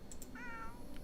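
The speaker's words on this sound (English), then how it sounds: "What happens if I select the cat?" A small cartoonish cat gives one short, high, clear meow in the video game Pan'orama, with a couple of soft chime-like ticks around it over a quiet hum.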